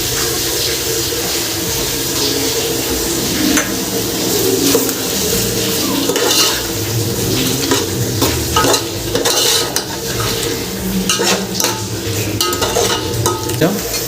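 Chicken biryani masala being stirred in a pot, a steady scraping and sizzling that runs unbroken and close throughout, with no talking.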